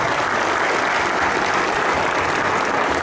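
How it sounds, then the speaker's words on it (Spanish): Loud, sustained applause from a crowd at an Agro Show 2016 launch event, a dense, even roar of clapping throughout with no pauses. "Fuerte el aplauso."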